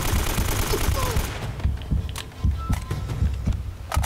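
Gunfire in a gunfight in the video game Uncharted: Drake's Fortune, at the Fortress: a dense burst of shots up front, then scattered sharp cracks and thuds at an uneven rhythm over a low throbbing bed, with talk mixed in.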